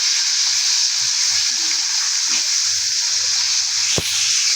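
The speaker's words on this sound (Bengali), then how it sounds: "তিনজনের জন্য ভাজি করে নিলাম" Fish frying in a home pan for a family meal, a steady broad sizzle and hiss running continuously and fairly loud, with a brief sharp spatter near the end.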